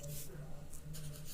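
Pen writing on paper in a quiet room, soft continuous scratching strokes with slight pauses, faint and close.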